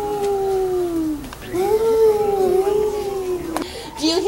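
Children's voices imitate howling wind with long, drawn-out 'whoo' tones that rise and fall, one sustained howl followed by another and a shorter one at the end.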